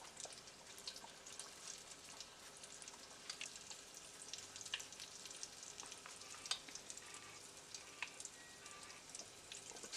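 Chitterlings deep-frying in oil, giving a steady, faint crackling sizzle with scattered pops and crisp spatters throughout, with no voices.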